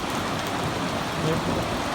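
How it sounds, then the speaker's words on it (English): Steady rain falling, a dense continuous patter of drops on surfaces, fairly close and even in loudness throughout. "Yeah, it's raining again, so that's good."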